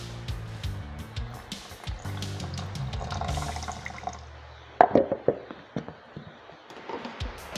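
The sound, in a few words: water being poured into ghevar batter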